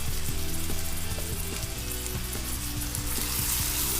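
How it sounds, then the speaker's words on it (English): Onion and tomato masala with cumin powder and salt frying in a pan gives a continuous, close sizzle, with faint repeated taps of stirring under it and no talk. "and fry all the masala very well."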